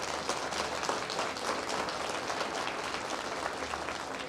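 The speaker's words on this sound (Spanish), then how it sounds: "Y yo creo que se merece un fuerte aplauso," Church congregation clapping during a sermon, a steady, moderately distant patter of many hands that stays even from start to finish.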